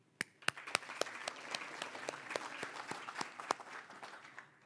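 A crowd at a BC transportation update event claps in sustained applause, sharp individual claps standing out from a thick, continuous patter.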